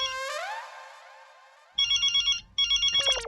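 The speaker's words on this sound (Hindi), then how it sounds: "अरे ये तो जेठालाल का फोन है," A mobile phone ringtone sounds indoors: a gliding tone fades, then bright chiming electronic bursts repeat in a steady rhythm, close and clear, with no talk over it.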